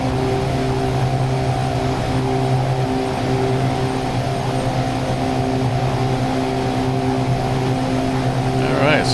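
Motorboat engine running at high revs, a steady loud droning hum with strong low harmonics that shift slightly in pitch, near and continuous throughout.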